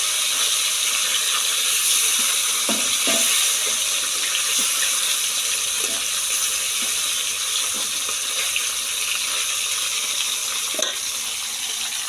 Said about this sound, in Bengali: আমি এখানে মাছ ভাজছি